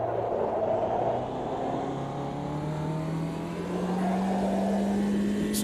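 A turbocharged Puma car engine in a racing sim video game drones steadily and close, its pitch climbing smoothly through a long acceleration with no talk over it.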